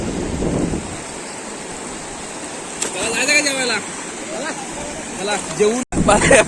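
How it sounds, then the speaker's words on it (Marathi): Steady broadband roar of a big waterfall on a river in the Konkan countryside, constant and close, with people talking over it. "हे पाणी येतं ना वरून मोठा धबधबा"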